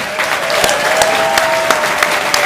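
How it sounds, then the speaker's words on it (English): A crowd at the Robinhood presentation event breaks into loud, sustained applause, dense clapping with occasional crisp nearby claps throughout. "let's give a big round of applause"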